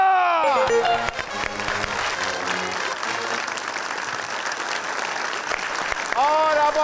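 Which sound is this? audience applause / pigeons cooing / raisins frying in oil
audience applause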